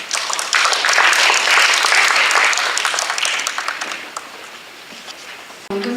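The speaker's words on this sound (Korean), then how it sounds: "박수로 맞이해 주시기 바랍니다" Loud audience applause at an international hippotherapy symposium welcoming a hospital professor to give a lecture: dense clapping that thins and fades after a few seconds, followed by a brief thump.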